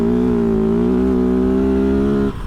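A Kove FSE 450R Rally motorcycle engine held steady in fourth gear on sand, a loud continuous droning hum that drops off abruptly near the end.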